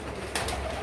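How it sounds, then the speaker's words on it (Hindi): A golden pair of pigeons on a rooftop gives a brief, fairly faint coo, with a short soft flutter just before it, against low background noise. "ये देखें जी ये है जी कबूतर शबूतर।"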